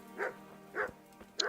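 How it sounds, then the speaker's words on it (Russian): A dog in Kingdom Come: Deliverance barks three times in an even rhythm, close and clear, with no talking over it. "Нифига, собачка здесь, песик."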